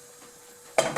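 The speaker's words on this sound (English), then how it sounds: "Now it's frying." Chinese chicken balls in batter hit hot oil and start frying, a quiet hum giving way to a sudden loud burst of sizzling near the end, with a second flare just after.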